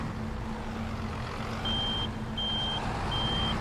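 A vehicle's reversing alarm sounds three evenly spaced high beeps over a steady low engine rumble, fairly clear against the background drone.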